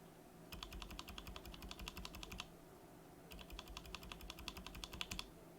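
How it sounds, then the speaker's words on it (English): An Everglide Crystal Purple tactile switch with no keycap is pressed repeatedly in two quick bursts of crisp, clacky clicks, close and quiet, with a short pause between bursts. "And let's listen to it without the keycap."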